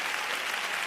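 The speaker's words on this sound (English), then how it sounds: "So can you clap for yourself?" An audience at the LIS2026 event breaks into applause, a dense, even wash of many hands clapping throughout, close and sustained with no voices on top.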